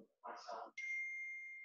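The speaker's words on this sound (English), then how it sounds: "Oh, that's my phone." A phone notification chime sounds once, a short bright ding that rings out and fades after a brief murmur of voice.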